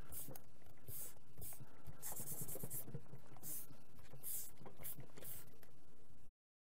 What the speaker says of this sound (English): I'm going to erase any stray mark, right, that I have up here.